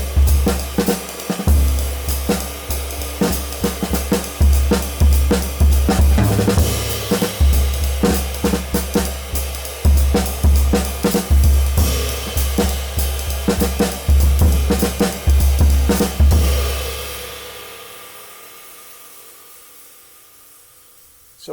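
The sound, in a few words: bebop drumming, snare and bass drum conversation with feathering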